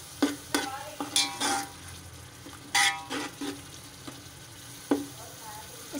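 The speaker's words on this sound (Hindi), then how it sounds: "हम इसको अच्छे से चला के इसको हल्की आंच पे पकने देंगे।" Lentil (malka dal) biryani masala stirred in a pot over a low flame, with scattered scraping strokes over a soft background sizzle, close and moderately loud, arriving as several short bursts.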